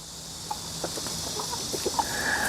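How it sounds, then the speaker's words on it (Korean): Farm chickens scratch and peck at scattered rye and corn on the ground, with soft clucks and light pecking taps over a steady background hiss, fairly close. "지금 닭들이 바닥에 뿌려진 호밀, 옥수수 이런 것을, 지금 쌀아기 이런 것을 주워 먹고 있는데"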